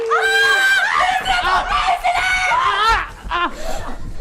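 A woman screams shrilly in playful distress while being tickled and bitten by a friend, with repeated high wavering cries and shrieks that are loud and close, mixed with laughing sounds.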